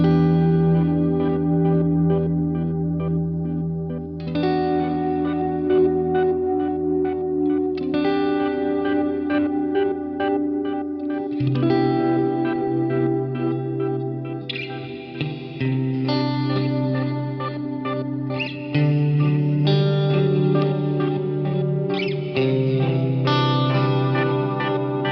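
Cornerstone Nucleo pedal running a granular effect at very low speed on guitar, sustained chords smeared into slowly shifting, layered grains with echo and chorus-like shimmer, steady and loud, with no talk over it.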